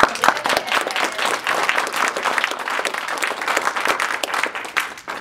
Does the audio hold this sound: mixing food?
no